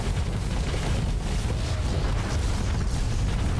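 A spaceship firing its big gun in Starsector: a continuous dense roar of explosive booms and bursts, loud and unbroken throughout, with no talking.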